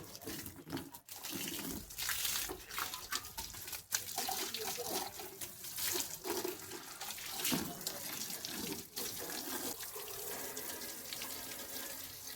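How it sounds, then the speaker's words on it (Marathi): Tap water running while a dusty motorbike is washed, a steady loud splashing stream with shifting gushes and spatters as it hits the bike, continuous throughout. "नळ आले तर पहिली गाडी धुवून घेऊ"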